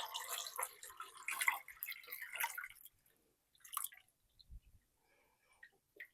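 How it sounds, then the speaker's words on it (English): Water being added to a double boiler, a soft hissing pour for about three seconds, then scattered quieter splashes and drips, all faint and close. "Okay, we're going to add the water now."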